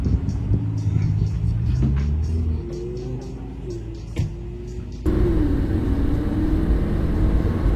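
A 610 hp Lamborghini accelerates hard on a racetrack, engine loud and close with rising revs through gear changes and a sharp shift in tone partway.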